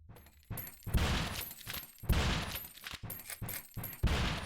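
Rapid bursts of video game gunfire crackle in several loud volleys with short gaps between them, sharp and close, with no voices over them.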